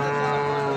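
At the Pul Qambar livestock market in Pakistan, a buffalo gives a short, deep, droning moo, loud and close, with no talking over it.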